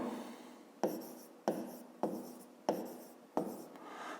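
Pen strokes on paper while working a fifth-grade math exercise about the edges of cubes, five quick separate scratching bursts with short pauses between, close and fairly quiet, no talking.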